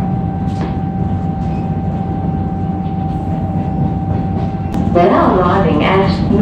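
Steady low rumble of a Comeng Metro train rolling into North Melbourne station, with a constant tonal whine, then rising screeching and clattering brakes as it slows near the end.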